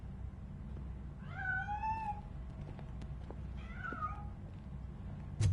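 A hidden cat in the game RoboCop: Rogue City gives two drawn-out, wavering meows a moment apart, moderately close over a low background hum, and ends with a short thump.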